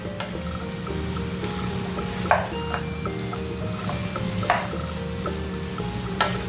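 Cooked rice being stir-fried in a hot pan with fresh pineapple for pineapple fried rice, giving a continuous sizzle with repeated scraping clatters from the spatula and a steady background hum.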